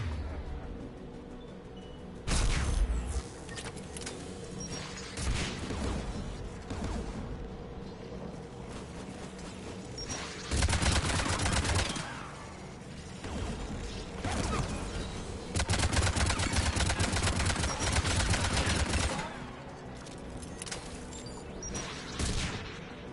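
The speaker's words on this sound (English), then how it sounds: "AA guns ahead of us." Anti-aircraft guns pound away in a Mass Effect 3 battle, with heavy rumbling salvos swelling in several loud bursts over a constant backdrop of distant combat. No one speaks.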